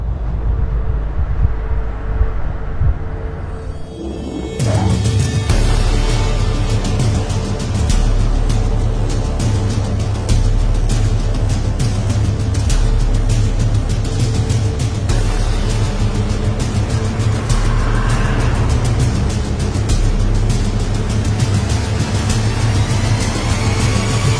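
A VW Golf VR6 six-cylinder engine hums steadily from inside the car while driving, a low continuous drone with road noise; the sound is quieter for the first few seconds, then louder and sustained.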